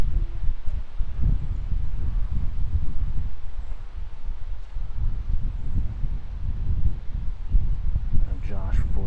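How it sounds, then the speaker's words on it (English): A gusty headwind buffets the microphone outdoors on a disc golf course, a constant low roar and rumble that swells and dips, with a brief voice toward the end. "Gusty headwind"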